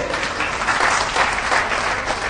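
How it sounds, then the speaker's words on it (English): Audience applause in a hall, a brief, dense wash of steady clapping heard on its own without talk. "Please clap for him."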